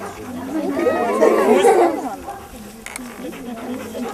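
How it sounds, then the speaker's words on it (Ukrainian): Black Labrador at a canine training centre in Sumy region during an open day, with dog whines and yips mixed into a busy stretch of chatter and a voice talking over it, fading to quieter background after two seconds. "Чорний лабрадор Гуч впевнено долає перепони, демонструє навики початкової дресури"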